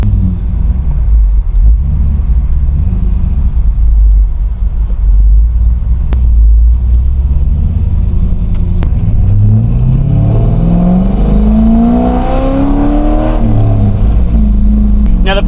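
A loud, deep C5 Corvette cammed V8 rumble with a lumpy, uneven idle chop throughout, rising into revs near the end.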